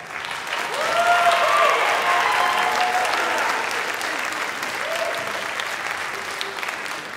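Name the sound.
concert audience applause for soloists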